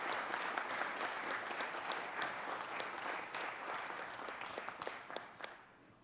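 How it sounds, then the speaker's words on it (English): A crowd in a city council chamber applauds a student honoree, steady dense clapping with a few sharp individual claps standing out, tapering off at the end. "Let's give him a round of applause."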